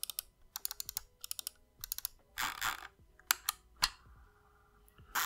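Button clicks from a Logitech M720 Triathlon wireless mouse, a run of sharp, close, fairly loud clicks in quick bursts with short pauses, heard alone.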